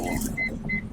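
Automatic sliding side door of a used Toyota Alphard closing, a short motorised whir with soft mechanical clicks close by.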